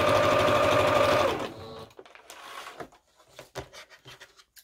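A sewing machine stitches through layered fabric for a collage roll, running loud and steady for over a second before stopping, followed by quieter handling rustles and taps of the cloth.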